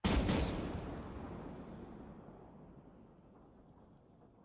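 A ceremonial rifle salute volley in a video game memorial ceremony: one sharp, loud crack of massed rifles at the start, followed by a long rolling echo that fades slowly over several seconds, with no talk.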